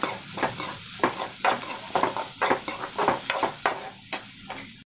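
Finely chopped small onions sauté in a pan for quail pepper chukka, with a close, busy sizzle and repeated rhythmic scraping of a spoon that stops abruptly at the end.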